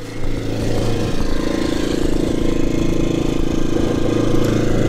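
A CAT INV2000 inverter generator runs steadily with its exhaust facing the listener, a throbbing, even exhaust drone, loud and close, holding a constant speed throughout.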